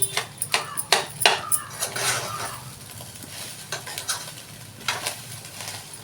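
Chepa (fish) fry with chili powder and salt being stirred in a pan, sharp utensil scrapes and clinks against metal coming in quick bursts, then settling into a softer sizzle with a few scattered clanks.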